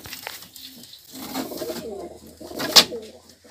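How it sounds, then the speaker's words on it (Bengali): Giribaz pigeons cooing at a pigeon farm, soft throaty coos repeating close by, with a brief sharp flutter or squeak near the end and faint voices in the background. "ওটাও ঘিয়াচন্ডী গিরিবাজ, এটাও গিরিবাজ।"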